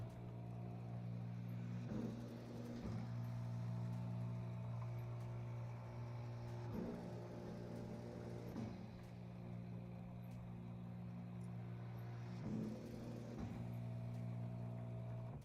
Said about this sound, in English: my machine will start to trace the area where I'm intending to do the embroidery